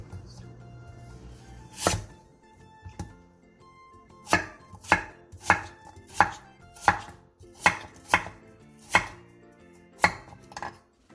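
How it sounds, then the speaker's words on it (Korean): A knife chops a 2 cm-thick chunk of radish into bite-size pieces on a board: one sharp strike, a pause, then a steady run of about nine crisp, close chops at an even pace. "무 2cm 두께의 한 토막도 한 입에 먹기 좋은 크기로 잘라주세요."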